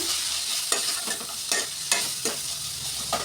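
Tomato with asafoetida and turmeric stirred in a frying pan for potato masala, a steady sizzle with a regular series of scraping spoon strokes against the pan, close and clear, with no talking.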